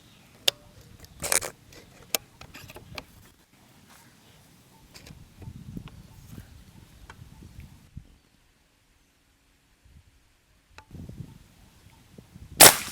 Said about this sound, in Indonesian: Lanjut tembakan kedua.